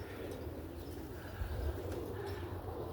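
Roller pigeons coo softly in a low, rumbling rhythm, close and steady over faint background noise, with no voices.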